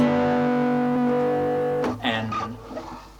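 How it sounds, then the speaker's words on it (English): A distorted electric tone holds steady with a dense buzzing harmonic texture, then cuts off after about two seconds into a voice talking. "distortion just makes those sound like trash, so it's a shit effect"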